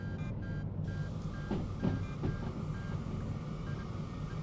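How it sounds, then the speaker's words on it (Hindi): In the Derail Valley train simulator game, an alarm beeps in a steady repeating pattern of short tones. It sounds over a constant low engine rumble and cab noise, moderately loud, with no talking. "किस चीज़ का अलार्म बज रहा है सर?"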